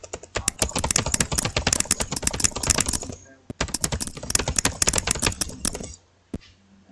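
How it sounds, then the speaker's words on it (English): Bursts of rapid clicking keystrokes on a computer keyboard, close and crisp, in two runs separated by a short pause, then a few isolated taps trailing off. "if I click on this, and I type in anything, and just type some more"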